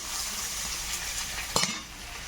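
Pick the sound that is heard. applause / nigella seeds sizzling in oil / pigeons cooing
nigella seeds sizzling in oil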